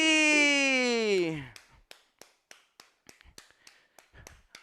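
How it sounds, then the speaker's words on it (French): Participants in a SportBoKay Ti Tak Form exercise class clap after the workout, a sustained spoken voice giving way to a series of light, evenly spaced claps, faint and sparse. "Et on s'applaudit"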